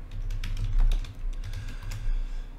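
Rapid, steady keystrokes on a computer keyboard as player names are typed in during a trading card box opening, close and clear with no voices over them.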